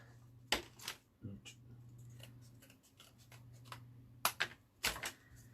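Scissors snipping spare chipboard by hand for a craft minibook, a few faint crisp cuts and rustles spaced irregularly over a quiet background hum.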